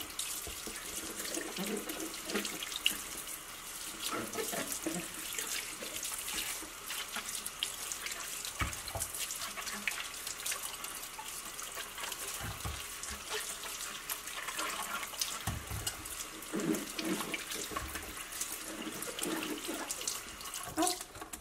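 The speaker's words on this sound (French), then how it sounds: "je vais laver rapidement mes légumes" Kitchen tap water runs steadily into a sink while vegetables are rinsed, a continuous close hiss with small splashes and clatters throughout.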